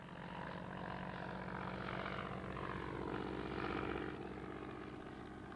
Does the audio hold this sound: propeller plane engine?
yes